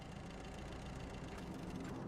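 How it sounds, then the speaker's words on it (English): A car engine in the battle-royale video game PUBG runs as a steady, dense low rumble with a faint knocking texture, held continuously and fairly close, with no talk over it. "Another car, I can hear."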